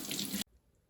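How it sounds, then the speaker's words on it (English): Cold tap water runs over rice noodles being rinsed, a bright close splashing rush lasting under half a second before cutting off abruptly into near silence. "you'll rinse them off with cold water so that they don't stick together"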